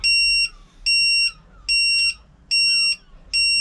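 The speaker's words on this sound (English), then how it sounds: "Yeah, that is a lost model alarm." A lost model alarm on an RC plane fitted with a Zohd Kopilot sounds loud, shrill, close electronic beeps in a regular pattern. Five half-second tones come with short silent gaps between them, and nobody speaks.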